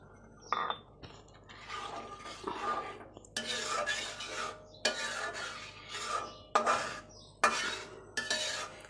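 Eggs are stirred in a pan while cooking egg korma, with a series of clattering scrapes and metallic knocks of a spoon against the pan coming in irregular bursts, close and fairly loud.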